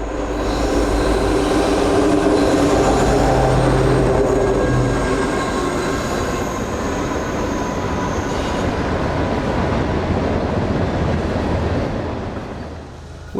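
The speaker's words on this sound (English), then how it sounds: "catch the Lackawanna Heritage Unit leading a westbound down the grade" A westbound freight train led by the Lackawanna Heritage Unit locomotive rolls down a grade, a loud, steady rumble of engine and wheels that holds for the whole stretch before easing at the very end.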